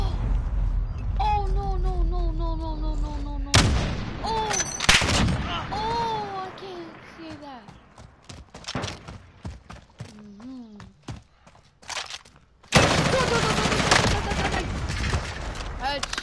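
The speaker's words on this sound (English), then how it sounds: "shoot your gun." Bursts of gunfire ring out in Call of Duty: Warzone, loud sharp volleys and rapid strings of shots broken by quieter gaps, with a player talking over the action.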